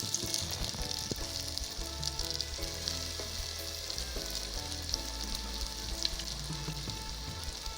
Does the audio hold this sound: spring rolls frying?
yes